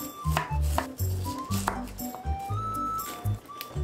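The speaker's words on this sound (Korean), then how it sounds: "코울슬로 만들 양배추 자르고 씻어줄게요" Cabbage is chopped on a cutting board with a knife for coleslaw in a home kitchen, a run of close, irregular crunchy cuts and board knocks with brief pauses between strokes.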